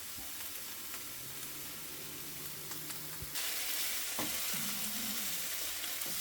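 Vegetables for shakshuka sizzle and fry steadily in a pan, a continuous crackling hiss that grows louder partway through with a few faint clatters of utensils.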